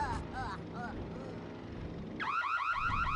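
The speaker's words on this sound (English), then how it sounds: "Sounds like a car alarm going off." An alarm-like sound in the video game Super Mario Galaxy, a looping warbling siren tone that sweeps up and down, briefly at first, then louder and denser near the end over a low rumble.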